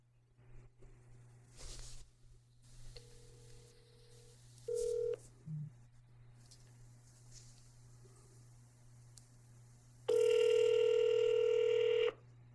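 Short electronic tones like a phone being dialed, then a loud steady ringback tone for about two seconds near the end, over a low constant hum.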